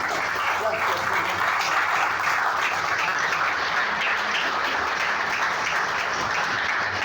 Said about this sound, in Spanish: En esta noche damos un fuerte aplauso a Jesús.